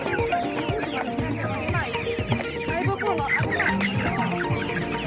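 Chickens cluck and squawk close by at an open-air bazaar in Drahiv, a busy stream of overlapping bird calls while people talk over them throughout.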